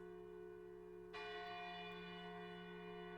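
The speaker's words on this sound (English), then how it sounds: "a bell sounds from the foot of the hill. Several long, slow rings." A church bell in the video game Lost Odyssey rings out from the foot of a hill, one strong strike followed by a long, sustained ringing hum over a steady low background drone.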